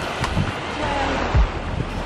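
Ocean waves with a steady, wide surf roar mixed with gusty wind buffeting the microphone, and a brief thump partway through.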